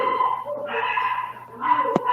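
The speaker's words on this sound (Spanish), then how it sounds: "Perdón por mis vecinos, hay un perro gritando." A neighbors' dog barks and whimpers in high, strained yips and whines that come in waves, heard loudly and continuously through the short stretch, with no talking.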